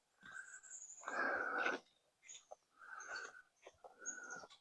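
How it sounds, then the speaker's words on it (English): Several short bird calls and chirps in the woods, in bursts with brief pauses, fairly close, with a louder rough call in the middle. "You got some birds now. That's good. I like to hear the woodland creatures."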